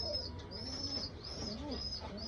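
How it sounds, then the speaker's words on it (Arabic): A pigeon coos softly and steadily while feeding its young squab, with the low warbling calls continuing throughout at a close, moderate level. "بص الحمامه بتزق ابنها ازاي"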